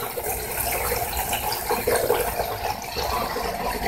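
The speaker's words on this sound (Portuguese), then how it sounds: "Tá correndo a água aí." Water running into an Electrolux LT08E top-load washing machine, a steady close gushing and splashing with faint mechanical rattles underneath, no talk.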